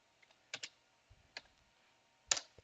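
Sparse, faint typing on a computer keyboard, with a few separate key clicks and pairs of clicks spaced through a quiet room.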